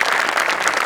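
A short burst of dense audience applause at a live Marathi comedy stage show, loud and close, with many hands clapping at once.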